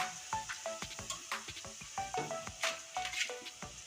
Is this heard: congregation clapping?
no